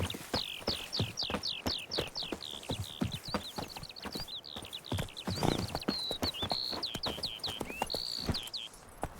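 Steady clip-clop of hooves from Geralt's horse Roach in The Witcher 3, an even trotting rhythm of close, crisp hoofbeats, with high chirping birdsong running over the top.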